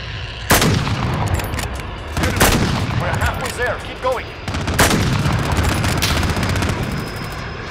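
Rapid bursts of automatic gunfire and single shots in the shooter video game Call of Duty: Modern Warfare, loud and close, repeating in clusters across the stretch, with a player's voice talking over the action.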